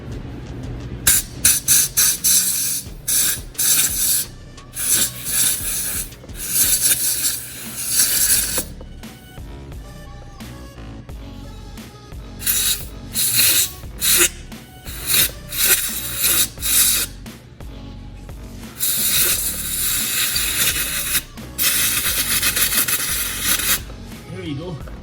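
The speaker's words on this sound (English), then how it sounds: "Now we're gonna blow the air right in this rubber" Compressed air hisses into the rubber boot of a stuck, WD-40-soaked coil pack on an MK6 Jetta 1.8T engine, coming in several loud, close bursts of harsh rushing noise separated by short pauses.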